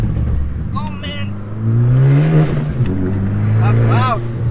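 A loud Abarth 500 engine revs up and holds a deep roar, with people talking and exclaiming over it at close range.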